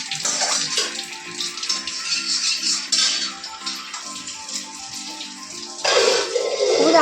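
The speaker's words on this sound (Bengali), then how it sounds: "তারপর কড়াটা ধুয়ে নাও" Running water pours steadily as a wok is washed under a tap, with splashing and scrubbing throughout and a brief louder gush near the end; no one speaks.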